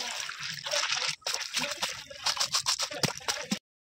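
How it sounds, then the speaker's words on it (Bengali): Boiled periwinkle snails are rinsed in pond water, with splashing, trickling and rattling shells in uneven bursts close by, ending abruptly. "পুকুরের জলে ধুয়ে নেব গেঁড়িগুলোকে।"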